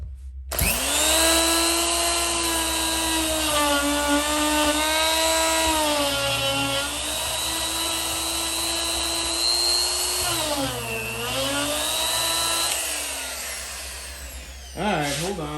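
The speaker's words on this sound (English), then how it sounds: "I gotta put another sanding drum on this." A loud, close power-drill motor whines steadily with a sanding drum grinding during knifemaking, its pitch dipping and rising under load before stopping abruptly.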